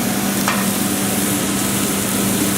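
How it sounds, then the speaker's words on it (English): Leeks sweating in a pan with pancetta added give a steady, even sizzle, close and continuous throughout with a faint stir or scrape early on and no voices. "while those leeks are sweating down just a touch, I'm going to add my pancetta"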